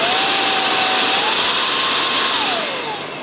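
A Baseus cordless car vacuum cleaner running close and loud, a steady high motor whine and airflow roar with a slight pitch shift before it begins to wind down at the end, no talking.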